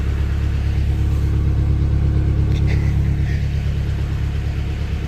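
Narrowboat engine on the River Stort held at higher revs, a loud, steady low rumble with a continuous mechanical drone, heard close and without talk.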